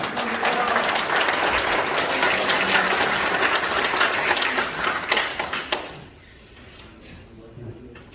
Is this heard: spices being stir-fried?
no